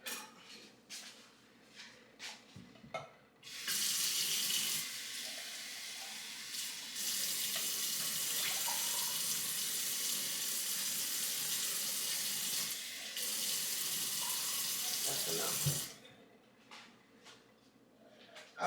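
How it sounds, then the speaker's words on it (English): A kitchen sink tap runs steadily for about twelve seconds to rinse out food cans, with a brief break in the flow, framed by clinks and handling before and after, alone with no talking. "take both of these cans over to my sink and just swish a little bit of water in both cans"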